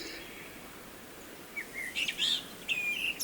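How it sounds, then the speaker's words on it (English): Birds in a game's dynamic ambience give several bright chirping calls over a soft, steady background hiss, starting quiet and growing more frequent toward the end. "It could be that bird you heard on your right"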